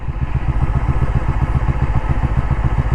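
A KOVE 250RR motorcycle engine idles while coasting downhill, giving a loud, close, evenly pulsing low thump that runs steadily throughout.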